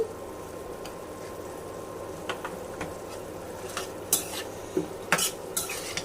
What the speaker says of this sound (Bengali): এর মধ্যে আমি কিছু টমেটো দিব কিউব করে রাখা টমেটো